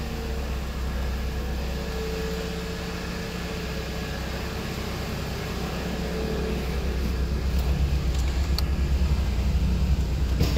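A car engine idles smoothly at a steady low hum, heard up close from the engine bay of a used automatic car, with a constant drone that swells slightly toward the end and no voices.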